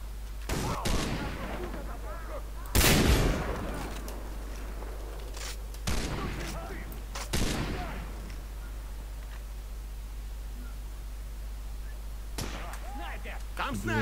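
Gunfire in the video game Far Cry 3 multiplayer comes as a few loud separate shots spaced several seconds apart, with voices talking over the game sound.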